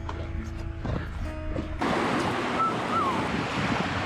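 Surf washing onto the Black Sea coast with wind gusting across the microphone, a steady broadband roar that thickens partway through, near and continuous with no voices.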